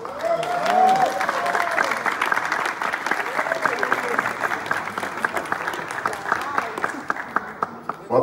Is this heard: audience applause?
yes